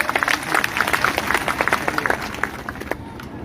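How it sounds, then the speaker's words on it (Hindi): At a political development-tour rally in Baldevgarh, Tikamgarh, a crowd claps loudly for the local legislator Rahul Lodhi, rapid uneven clapping from many hands, strong at first, then easing off near the end. "एक बार जोरदार ताली बजा दो राहुल भैया के लिए।"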